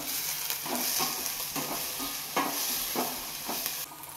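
Onions fry and brown in a pan for an idiyappam kurma, with a soft steady sizzle and a series of regular stirring scrapes about every half second, close by and fairly quiet, without speech.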